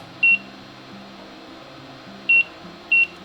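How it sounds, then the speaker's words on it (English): A kitchen timer being set for rice cooking gives three short electronic beeps, one early and two close together near the end, over a low steady kitchen hum. "I'm going to take my timer and I'm going to set it for 17 minutes."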